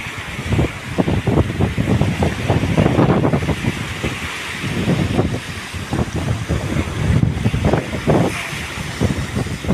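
Strong wind buffets the microphone on a seashore during net fishing for trevally, a continuous loud roar with gusty surges and wave wash, no voices.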